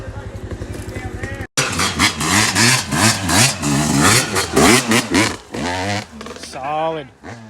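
A Yamaha YZ125 two-stroke dirt bike idles and then revs hard in repeated rising and falling bursts while climbing a steep hill, loud and close, with a rider shouting over it.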